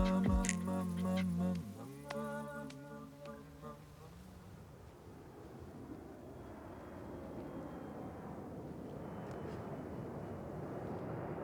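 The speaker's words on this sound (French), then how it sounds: "Un vrai avion. Il doit venir de loin. Il est très haut dans le ciel." A steady, distant jet roar with a broad rumbling wash, following a brief tonal hum at the start.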